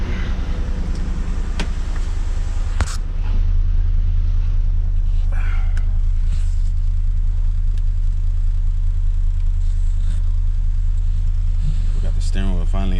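The engine of a 2006 Lexus GS430 idles roughly and shakily as it warms up, producing a loud, close, continuous low rumble with occasional clunks and rattles throughout.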